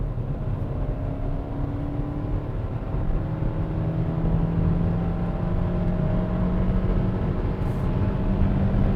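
Engine and road noise from inside a 2020 Kia Soul GT-Line accelerating in sport mode, a steady low drone whose pitch climbs gradually as speed builds.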